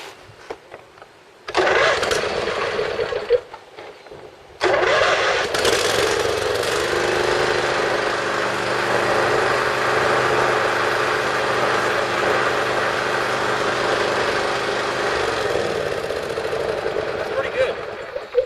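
Small gasoline generator fitted with a homemade silencer, running outdoors: a brief loud burst, a short drop, then a steady, continuous engine drone that holds loud for over ten seconds before easing slightly.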